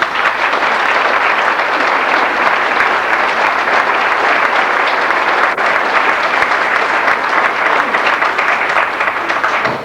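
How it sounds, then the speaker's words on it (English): Steady, full applause from several hundred people in a church for two children who sang, a dense even roar of clapping lasting throughout without a break. "a round of applause"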